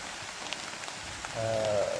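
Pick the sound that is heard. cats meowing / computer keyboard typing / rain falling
rain falling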